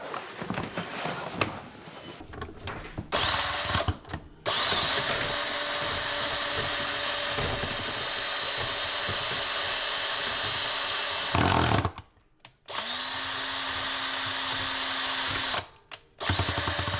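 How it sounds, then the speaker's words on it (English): A power drill driving a 25-foot drain auger through a clogged sink drain whines loudly and steadily for long stretches, cutting out briefly twice before revving up again. "You get the drill bit, just kind of work it around and let it clean it out a little bit."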